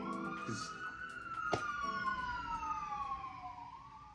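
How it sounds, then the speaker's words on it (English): A police siren wails steadily as rain begins, its rising and falling tone sweeping across a sustained wail with a brief sharp knock partway through, loud and fairly close. "It starts raining, and then the sirens just have to go off."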